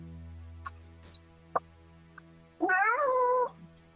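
A cat gives one drawn-out, wavering meow, loud and close, after a few faint clicks and taps over a low background hum.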